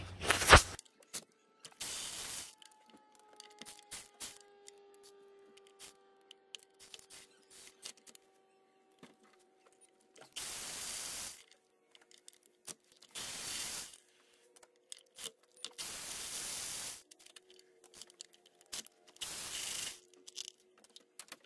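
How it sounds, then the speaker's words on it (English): Ratchet loosening the 10mm intake bolts on a Nissan NV200, heard as several short bursts of quick ratcheting clicks separated by quiet pauses, close by and moderately soft. "we're gonna go ahead and take off those 5 10mm bolts, and then the intake should come right off"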